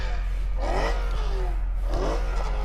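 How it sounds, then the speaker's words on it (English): A BMW M3 E92 with a naturally aspirated V8 accelerates hard in a drag race, two rising revving sweeps heard from a distance over a steady low rumble, each climbing through the gears. "Let's have a listen to the E92 naturally aspirated V8,"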